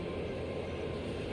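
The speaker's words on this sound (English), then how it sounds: "Another train going through." A train rumbles past at an army base in the video game Trails of Cold Steel, a steady broadband roar with low rolling rumble, loud and continuous throughout.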